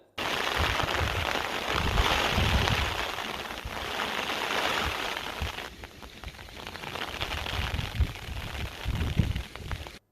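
Heavy rain driven by strong gusty wind over hillside greenhouses and vegetable farms in Avalanche, Nilgiris, a dense continuous roar of downpour with buffeting gusts, steady and close throughout without any voices.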